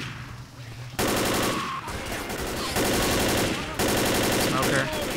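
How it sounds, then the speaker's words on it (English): Rapid automatic gunfire in the zombie shooter game Left 4 Dead, loud bursts of repeated shots in several stretches with short pauses between them, set against a steady game background. "I wouldn't shoot my teammates if they wouldn't run right in front of me"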